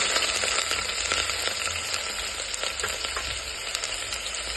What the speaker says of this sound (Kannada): ಸಾಸಿವೆ ಸಿಕ್ಕಿದ ತಕ್ಷಣ ಈರುಳ್ಳಿ ಹಾಕ್ತಾ ಇದ್ದೀನಿ